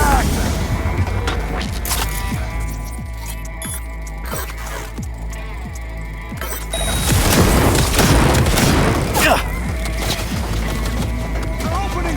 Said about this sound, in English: They're opening fire!